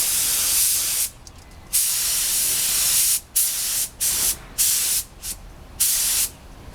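A spray gun lays pearl white base coat paint onto a Yamaha FZ600 motorcycle, a loud steady hiss broken into bursts of varying length with short pauses between passes.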